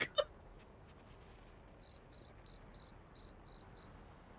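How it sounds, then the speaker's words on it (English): A cricket sound effect chirps in about eight quick, evenly spaced pulsing bursts over a quiet background, following a brief knock at the start. "Okay, why crickets?"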